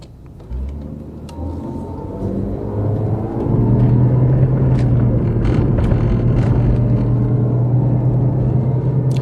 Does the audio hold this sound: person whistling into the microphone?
no